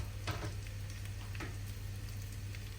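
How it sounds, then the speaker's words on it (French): Potatoes sauté in butter and garlic in a pan, a soft, steady sizzle with a few brief stirring scrapes, heard alone under a low electrical hum. "Je les fais sauter dans le beurre et l'ail."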